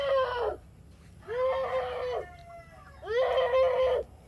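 Chickens calling near and loud: three drawn-out, strained squawks, the middle one trailing into a thin whine, with short gaps of quiet between them.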